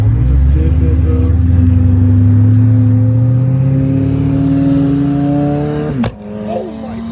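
Catless exhaust on a Dodge Challenger Hellcat Redeye driving at night, a loud, steady low rumble that rises in pitch as the engine revs up, then cuts off abruptly near the end.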